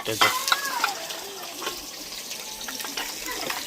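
Green onions go into a hot frying pan with a brief sizzle and stirring clatter, soft kitchen background continuing underneath.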